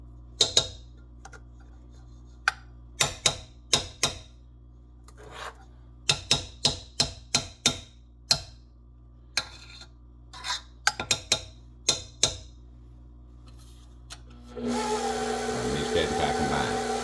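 An electric mixer whirs steadily through pumpkin pound cake batter, switching on only near the end after a run of sharp clicks and taps from bowl and utensils.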